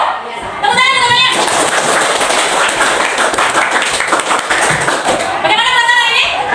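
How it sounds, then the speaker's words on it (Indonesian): A classroom of students claps together in loud, dense applause lasting several seconds, preceded and followed by a teacher speaking. "Tepuk tangan teman-temannya."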